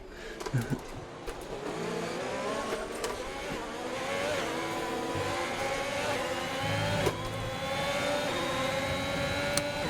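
Formula 1 race car engines from the F1 2021 video game scream at high revs, several cars running close together in a draft, with rising and shifting engine pitches layered into a continuous loud whine.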